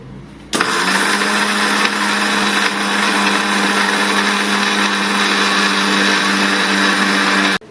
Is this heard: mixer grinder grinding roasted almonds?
yes